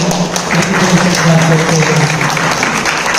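An audience applauds steadily through a lamp-lighting ceremony at a public gathering in Medak, a dense, loud wash of clapping with a voice heard over it.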